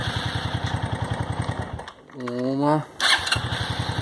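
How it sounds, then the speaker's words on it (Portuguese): An old motorcycle cranks over in neutral with its headlight off, a rapid steady starter-driven chugging that pauses briefly while someone speaks, then resumes loud and close. "Vamos ver se vai dar partida na moto."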